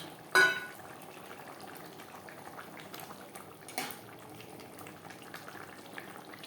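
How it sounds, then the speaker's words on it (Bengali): Yogurt gravy bubbling in a pan, a quiet low simmer with soft popping and one or two louder knocks, heard close and without talk. "গ্রেভি বেশ ভালো করে ফুটতে শুরু করে দিয়েছে"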